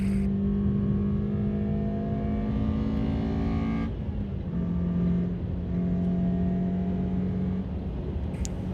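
A race car's engine runs at full throttle around Thruxton race circuit, a loud sustained drone steady for several seconds, dipping briefly with a gear change before climbing again, heard from inside the car.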